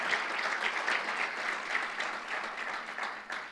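Church congregation clapping steadily and continuously, a dense, even wash of applause filling the room throughout.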